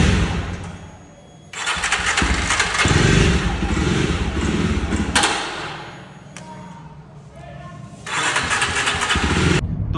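A Jawa 42 Bobber motorcycle with a fault that keeps it from starting, cranking loudly and close in repeated long bursts with brief pauses between attempts, its engine never settling into a steady idle.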